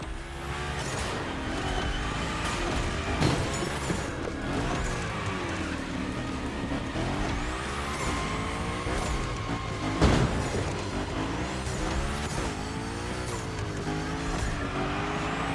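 The Hoonicorn drifts through gymkhana slides in The Crew Motorfest on PS5, its engine roaring continuously while the tires squeal and skid under a dense layer of game music and mechanical noise, with a couple of sharp impacts along the way.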